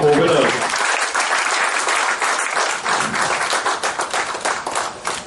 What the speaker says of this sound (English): can we have a warm round of applause for all our four winners?